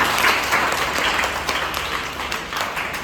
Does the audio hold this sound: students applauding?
yes